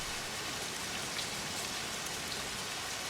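Heavy rain pours down in a dense, continuous hiss of drops striking surfaces, steady and loud throughout with no voices.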